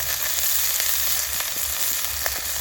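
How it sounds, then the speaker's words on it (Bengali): Beto greens (bathua) frying in a pan with salt and turmeric: a steady, close crackling sizzle that holds evenly throughout, with a few sharper pops and no voices. "আর খুব অল্প করে হলুদের গুঁড়ো দিয়ে ভালো করে ভেজে নেব।"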